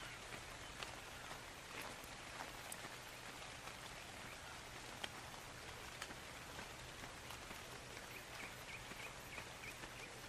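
Steady rain falls in Ark Survival Evolved, a constant broadband hiss of drops with a few sharper ticks and faint bird chirps, heard alone without talk for the full stretch.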